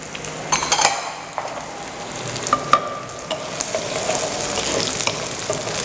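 Red base spice paste stir-fried in a pan gives a steady, close sizzle with utensil scraping and the odd metallic clink. No one speaks.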